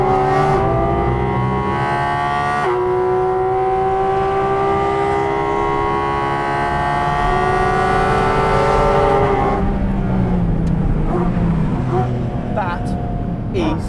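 A Porsche 718 Cayman GT4 RS engine revs hard in second gear, loud and close, its pitch climbing steadily for about nine seconds before the note drops away and eases off.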